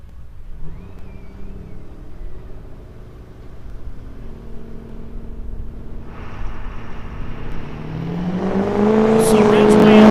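A one-ton pickup truck launches at a drag-racing truck fest, its engine building from a low rumble into a loud, rising roar over the final seconds.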